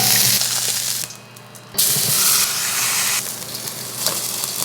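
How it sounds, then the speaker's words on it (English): Steak searing in a hot wok, a loud close sizzle and hiss that drops briefly and surges back in strong waves as the meat is pressed and turned. "A little bit of that on the sidewall, sear it on both sides."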